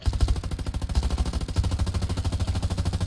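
A tank's machine gun in Hell Let Loose fires in rapid sustained bursts, a dense rattling stream of close, heavy shots with brief gaps between strings and no talking.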